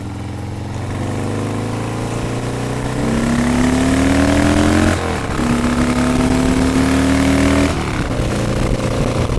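A 1979 Harley-Davidson Ironhead Sportster rumbles loudly and steadily while ridden, its engine pitch climbing through gears with a brief dip at a shift, close and continuous.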